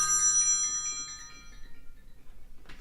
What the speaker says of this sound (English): I cannot believe my phone is ringing.